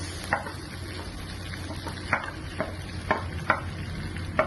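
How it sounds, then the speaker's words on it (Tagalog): Garlic and onions sauté in a pan for sweet and sour fish fillet, with a steady sizzle broken by sharp, scraping stirs at irregular intervals, close and fairly loud. "Saute the garlic and the onions."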